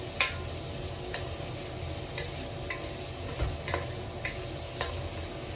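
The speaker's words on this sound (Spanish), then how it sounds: "Le vamos a agregar la cebolla, mira. Vamos a revolver un pelín." Onion added to chorizo in a pan and stirred, giving a steady low sizzle with several short scraping clicks from the utensil spread through the stir.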